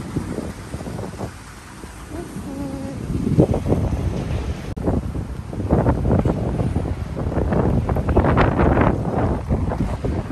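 Steady wind buffets the microphone outdoors, with gusty rumbling bursts rising and falling throughout, loud and close.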